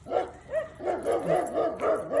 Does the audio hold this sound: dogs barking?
yes